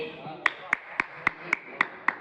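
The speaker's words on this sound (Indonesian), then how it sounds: "Udah nggak usah tepuk tangan, masih satu loh." A handful of people clap hands in a room, seven crisp, evenly spaced claps over about two seconds, with voices talking softly underneath.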